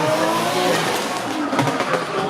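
A drift car accelerates and slides on a race track during a drift series qualifying round in Miri, Sarawak, its engine roaring loud and close with tire squeal and skidding throughout.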